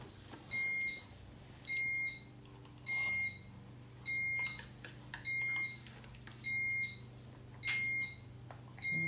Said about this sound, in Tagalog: There's a timer. I have to turn it off.